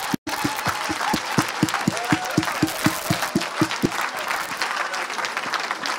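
A church congregation claps together in a steady, rhythmic beat during a worship service, the claps sounding loud and close over a busy crowd wash before the rhythm loosens into scattered applause.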